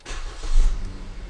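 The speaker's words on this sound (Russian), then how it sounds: "Если мы машину заведем" A Kia Picanto engine starting: a short crank catches and swells into a brief rev before settling, close and loud, with no talk.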